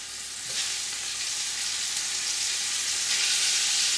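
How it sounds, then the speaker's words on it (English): Short ribs browning in a hot pot give off a steady, dense sizzle and crackle of frying meat that swells slightly after the first half second and holds loud and even throughout, with no voices. "it's time to do the same thing with the short ribs. And we'll start to brown these in the same pot as well."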